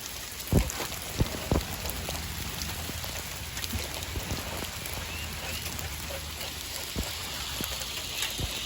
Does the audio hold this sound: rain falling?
yes